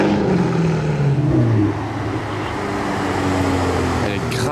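A Chevrolet Corvette on a Monaco street at night, its engine giving a loud, rising and falling rev close by amid street noise, ending with a brief sharper burst.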